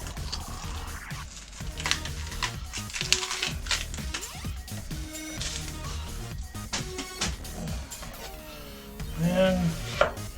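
A knife chops through half an onion on a cutting board, a quick run of close, crisp taps and thuds with a few scraping sounds, and no one speaks.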